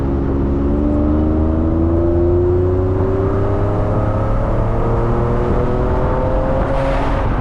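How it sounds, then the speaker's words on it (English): A 2000 Mercedes-Benz SL600 engine drones steadily and loud after a downshift, its pitch climbing slowly as it pulls under load, with a continuous whir throughout and no voices. "I'm gonna decelerate, I'm gonna downshift. And we're gonna put some load on the engine."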